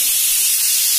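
A pressure cooker cooking mutton vents steam in a loud, continuous, close-up hiss that holds steady throughout, with no talking.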